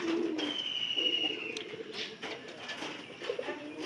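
Pigeons coo softly in a village pigeon loft, a faint, low murmuring with a few brief calls over steady rustling background noise.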